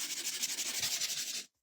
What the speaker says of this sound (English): I'm going to sand the edges